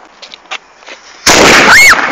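Fireworks on firework night: faint pops and crackles, then a sudden loud sustained blast with a bright rising-and-falling whistling shriek, close and dense.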